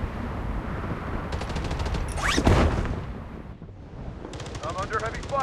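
Gunfire in the shooter game Blood Strike: rapid automatic bursts crackle near and loud, with a whooshing shot or explosion sweep in the middle, then another fast burst at the end, game voice lines partly mixed in.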